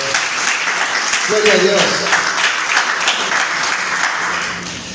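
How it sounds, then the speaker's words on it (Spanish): A church congregation breaks into applause for their Savior, a dense wash of clapping with a voice speaking over it partway through. "Denle un aplauso a nuestro Salvador."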